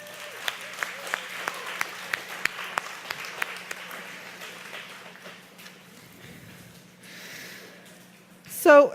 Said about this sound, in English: give yourself a big round of applause as well